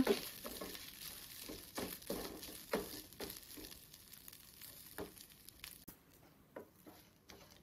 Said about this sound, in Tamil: ஸ்டவ் ஆஃப் பண்ணிட்டு போடுங்க, எல்லாம் தேங்காய் அப்படியே கரிஞ்சு போயிடும். நல்லா மிக்ஸ் பண்ணி விடுங்க.